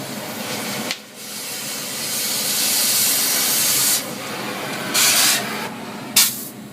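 Air scarfing torch at 30 psi blasting away a weld, a loud continuous roaring hiss with short breaks and bursts as the lever is eased and pressed again, no talk.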